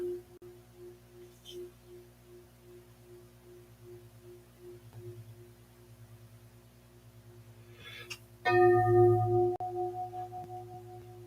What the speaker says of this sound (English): And this one we call a chime